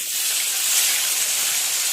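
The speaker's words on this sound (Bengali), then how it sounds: "দুটো পাশই খুব ভালো করে ভেজে নেবে।" Pieces of snakehead fish frying in a pan of hot oil, giving a loud, dense, continuous hiss and sizzle close up with no talking.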